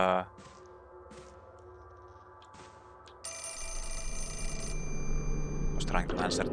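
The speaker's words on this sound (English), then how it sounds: "Was trying to answer the phone." A telephone rings inside a video game, Mask of the Lunar Eclipse, a steady electronic ring lasting a couple of seconds over game ambience and music, followed by a sharp noisy burst at the end.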